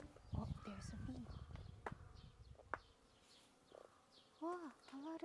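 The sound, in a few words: bees buzzing among flowers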